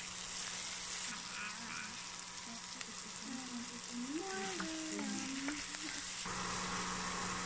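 Garlic mushrooms fry in butter in a pan as they are stirred, giving a soft, even sizzle throughout while a voice briefly talks or hums over it midway.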